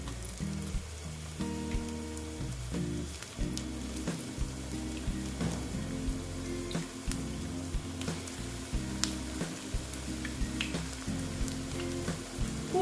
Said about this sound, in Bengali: আমার তেলটা গরম হয়ে গেছে এবার আমি বড়াগুলো দিয়ে দিচ্ছি